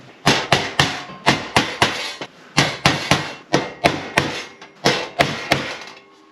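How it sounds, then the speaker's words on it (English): A hammer strikes a metal punch to mark a drilling point during a Roadtrek 190 camper van BBQ installation, about seventeen sharp, close, ringing taps in quick uneven groups with short pauses between. "If you don't have a punch, you can just use a screw or a nail, placing it right in the center of your mark and just giving it a little tap"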